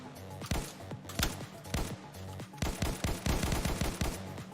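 Rapid gunfire from a video game firearm, a run of sharp, close shots in quick irregular bursts, growing denser toward the end.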